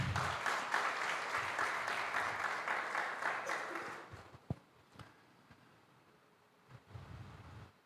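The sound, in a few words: audience applause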